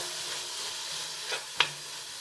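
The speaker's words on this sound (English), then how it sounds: "I'm going to let that saute for a few minutes." Vegetables for chicken fried rice sauté in a pan with a steady soft sizzle, and a couple of brief stirring scrapes break through near the end.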